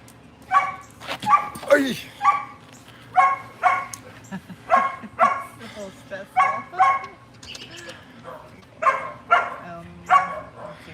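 Several dogs bark in a rapid, rhythmic run of close, sharp barks at a home, with a short whine early on and a person speaking briefly between barks.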